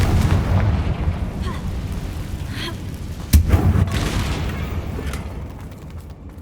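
A Confringo spell explosion blasts a damaged bridge in the video game Hogwarts Legacy, a sudden boom rising out of a loud, steady rumbling game soundscape midway through, then a lingering roar that slowly fades.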